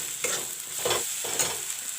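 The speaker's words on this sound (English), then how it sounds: "The raw taste won't be in the ginger garlic, so I have to fry it." Ginger garlic paste sizzles in a hot pan while a spoon stirs it, producing a continuous close hiss with soft scraping strokes roughly every half second, without talking.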